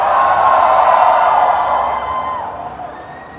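An audience at CCXP Mexico cheers and applauds a panel with Sydney Sweeney and Álvaro Morte. The crowd roars loud and steady, then slowly fades.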